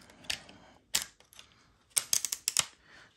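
Snap clips on the plastic speaker cover of an onn. large Bluetooth speaker pop free as it is peeled off, giving sharp close clicks: a few single snaps, then a quick burst of clustered clicks.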